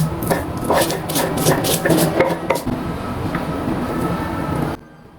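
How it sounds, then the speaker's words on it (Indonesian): Sambal plecing being pounded and ground with tomato in a stone mortar (ulekan) for Lombok dishes, giving a rapid series of close, sharp knocks and grinding scrapes that then settle into steady rubbing before stopping abruptly. "Sekarang masukkan tomatnya dan ulek juga semuanya sampai halus."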